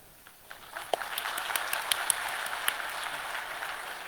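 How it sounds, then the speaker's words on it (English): Light, scattered audience clapping in a university lecture hall, starting sparse and building to a thin, steady patter with a few sharper individual claps standing out. "you guys are supposed to clap for them"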